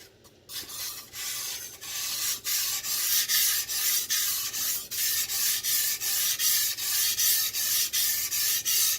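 A 10-inch kitchen knife is drawn across a Dalstrong whetstone in a steady rhythm of about twenty even, rasping strokes, close and clear, with no talking.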